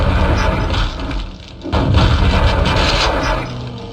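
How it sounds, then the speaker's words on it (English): A rocket launcher blast roars in the zombie shooter Dark Hour on the Maze map: a loud, dense, rumbling explosion that briefly dips, then surges again and lingers, with no talking. "Rocket launcher!"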